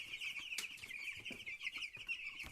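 Cobb 500 broiler chickens cluck softly and irregularly in a shed over a steady high-pitched chorus of peeping, with a few sharper calls standing out.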